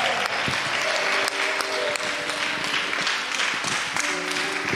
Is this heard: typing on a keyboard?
no